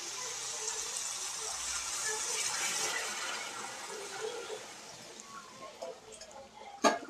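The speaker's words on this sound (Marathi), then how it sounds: "आता थोडंसं गरम पाणी केलेलं आहे मी, पाणी ॲड करून घ्यायचं शिजण्यासाठी" Hot water poured into a pan of bottle gourd and moong dal, making a steady gushing splash that fades over several seconds and ends in a sharp clink near the end.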